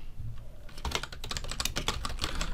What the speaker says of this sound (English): I'll just type a random date of birth here